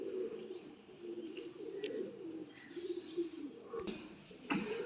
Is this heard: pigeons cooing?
yes